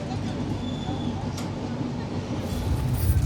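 A passenger train pulling out of Vizianagaram station, heard from inside a carriage as a steady low rumble with faint rattling that grows slightly louder toward the end.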